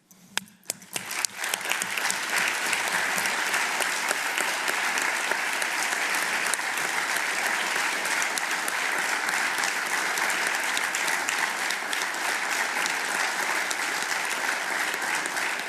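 Loud, sustained audience applause at a conference presentation on global hunger in Rome, starting with a few scattered claps and quickly swelling into dense, steady clapping that fills the room.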